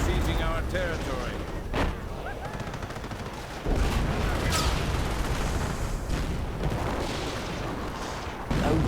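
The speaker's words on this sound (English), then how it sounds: "Oh dear, lots of artillery" Artillery barrages in a real-time strategy game match, a dense run of heavy booms and rapid gunfire bursts, loud and close, with game voice lines and commentary over it.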